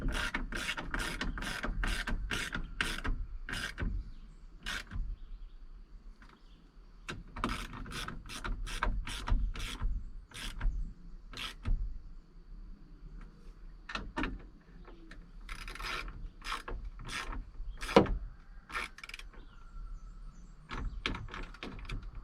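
Bolts on tow mirrors being tightened on a 2016 Toyota Tundra, with a ratchet clicking in quick close bursts of sharp ticks and short pauses between runs of turns.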